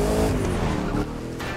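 Bugatti Divo hypercar driving in the racing game The Crew 2, a loud, steady engine roar with tire noise that holds for the whole moment and eases slightly near the end, with no talk over it.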